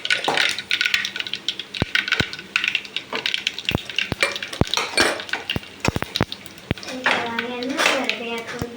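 Cumin seeds frying in a pan for a South Indian idli dish, with sizzling, sharp clinks of a metal spoon against the pan, and scraping stirs spread through the clip.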